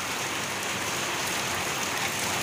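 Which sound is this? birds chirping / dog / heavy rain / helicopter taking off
heavy rain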